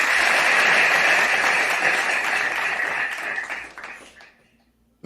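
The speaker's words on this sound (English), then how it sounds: "I'd like to start by giving everyone on the panel a round of applause" Loud, dense applause from an audience or panel fills the opening seconds, then thins and fades out toward the end.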